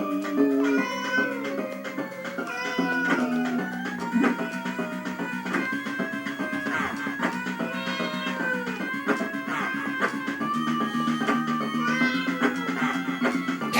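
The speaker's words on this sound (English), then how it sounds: "Cat, you're being very distracting while I'm trying to play Splatterhouse." A cat meows again and again beside a CRT television during retro gaming with Splatterhouse, its calls blending into steady, loud game music that runs the whole time.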